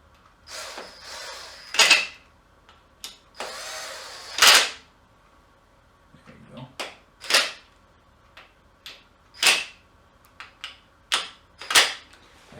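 Power tool driving in the timing cover bolts on a Nissan Infiniti VK45DE 4.5-liter V8 during reassembly, sharp short rattling bursts repeated about a dozen times with quiet gaps between.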